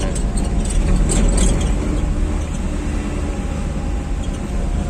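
A car engine labours in first gear up a steep hill, a loud, steady low drone that stays close throughout with no talk over it.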